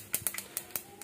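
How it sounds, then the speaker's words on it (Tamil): Mustard seeds popping in plenty of sesame oil in a clay pot for tamarind rice, a handful of sharp, quiet, irregular pops over a soft background, close and without talk. "கடுகு புரிய ஆரம்பிச்சிச்சு"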